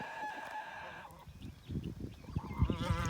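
Geese and free-range poultry call out in a yard, a honking, crowing bird cry early, then a busy jumble of squawks and flapping noise building toward the end.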